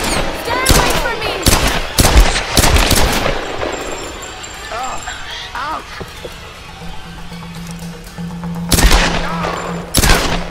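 Gunfire in the Tomb Raider action game, with loud sharp shot bursts clustered early, a quieter stretch, then more shots near the end, all mixed with shouting voices.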